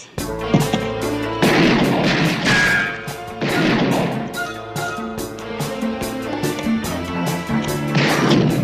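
Gunfire in a police shootout from a TV crime drama: dense, loud, repeated shots and crashing bursts rattle almost continuously, layered over a sustained musical score.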